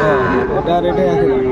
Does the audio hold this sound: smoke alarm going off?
no